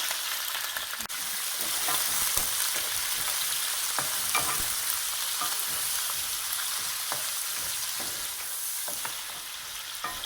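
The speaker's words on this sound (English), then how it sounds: "Here goes the calamari in." Calamari sizzles and crackles steadily in a hot frying pan, a dense hiss with scattered pops throughout, close and continuous.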